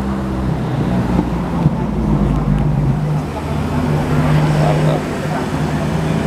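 A 63cc single-cylinder engine on a mini GP motorized scooter (goped) riding through Bandung, a steady close droning hum with a low rumble that holds nearly constant throughout, mixed with road and wind noise.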